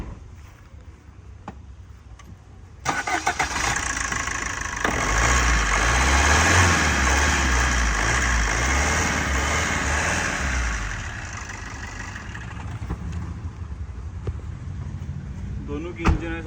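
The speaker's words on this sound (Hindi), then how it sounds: "अब मैं आपको स्विफ्ट की इंजन नॉइज़ सुनाता हूँ।" A Maruti Swift 1.2 diesel engine cranks and catches, then settles into a steady, close idle that softens after a while, with faint clicks and some talk around it.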